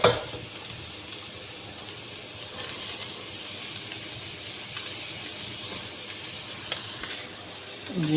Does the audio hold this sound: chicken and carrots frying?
yes